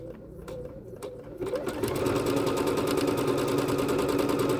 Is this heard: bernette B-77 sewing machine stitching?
yes